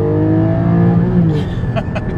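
A 2021 Porsche Cayman GT4 with PDK gearbox hums steadily from inside the cabin as its engine climbs past 4,000 rpm, the tone shifting and rising under a person talking.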